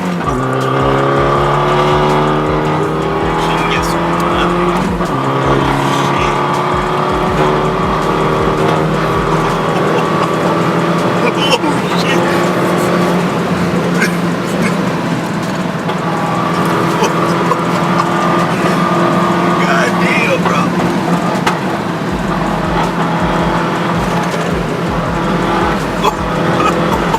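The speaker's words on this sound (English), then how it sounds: "we'll do a quick couple pulls with Leo in the car." A car engine revs hard through rising gears in Mexico, a loud sustained roar climbing in pitch with shifts, heard from inside the vehicle.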